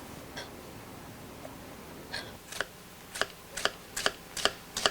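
A knife chopping an onion on a cutting board in a chef's kitchen: faint at first, then about six sharp, evenly spaced taps growing louder, with no talking.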